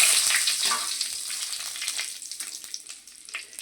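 Cardamom, cinnamon and panch phoron fry in hot oil in a pan for khichuri, a close bright steady sizzle that gradually eases off.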